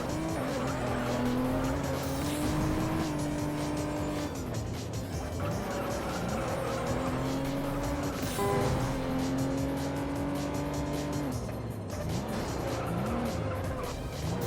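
Toyota Supra racing in the video game Juiced, engine note climbing and dropping with gear changes while tires squeal and skid through several corners, loud and continuous.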